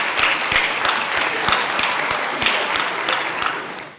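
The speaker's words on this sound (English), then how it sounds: "give a round of applause to your family and friends" Steady audience applause at a 2012 graduate hooding ceremony, dense clapping from a crowd with a few sharper individual claps standing out, fading slightly at the end.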